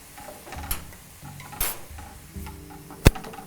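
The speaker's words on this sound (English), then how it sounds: "So we'll stir that in." A spoon stirs soy sauce and cornstarch into a vegetable stir-fry sauce in a pan. There are soft scraping and clinking sounds, with a sharp utensil tap near the end.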